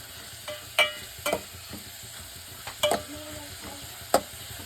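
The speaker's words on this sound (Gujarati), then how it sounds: "અને તેલમાં ચડવા દેવાનું થોડી વાર." Masala for masala dosa fries in oil as a quiet, steady sizzle, with a spoon scraping and clinking against the pan in a few sharp, irregular strokes.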